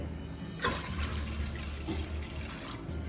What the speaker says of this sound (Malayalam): 1/2 കപ്പ് വെള്ളം ഒഴിക്കുന്നുണ്ട്